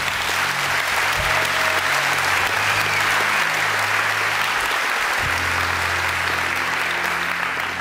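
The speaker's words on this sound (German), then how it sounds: "Applaus" Loud, sustained audience applause at a talk, dense clapping from a large crowd holding steady throughout with a low hum underneath.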